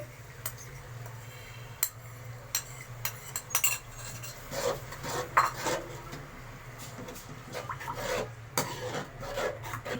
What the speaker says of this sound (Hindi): अच्छी तरह इसे मिक्स करेंगे और मसाला अच्छी तरह भूनेंगे।